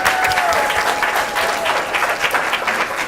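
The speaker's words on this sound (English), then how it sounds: "quick round of applause to everybody who's here tonight" Audience applause at a high school quiz competition final, a steady, loud wash of clapping from a crowd that lasts the whole stretch, with faint voices mixed in.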